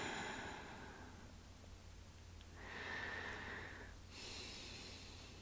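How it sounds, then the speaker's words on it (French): Slow, deep breathing during a guided meditation: a long soft exhale fading out, then a full airy inhale, and another breath beginning, close and gentle over quiet background hiss with no talk. "respire, fais le plein. Expire jusqu'au vide."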